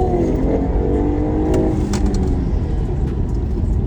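A 2025 BMW 430i accelerates hard under full throttle, its engine roaring as a loud, deep, continuous drone that stays strong throughout with no talking.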